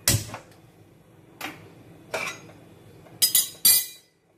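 A metal kadai set down on a gas stove while cooking Bengali begun basanti, a few sharp clanks and clinks close by, spaced out with a cluster of louder metallic knocks near the end.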